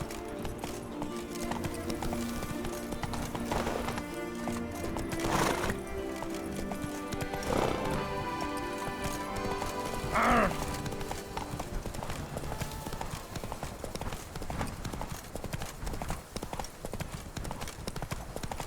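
Horse hooves clip-clop in The Witcher 3: Wild Hunt as the mount trots along. The rhythmic hoof beats repeat steadily at a moderate volume over game music, with a brief whinny partway through.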